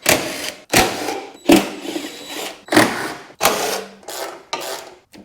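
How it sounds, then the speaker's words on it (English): Plastic hood cover being popped off a Honda HSS724A 24-inch snowblower, heard as a series of sharp clicks and scraping, rattling bursts in an uneven rhythm, close up, with no talking. "Now let's pop the hood."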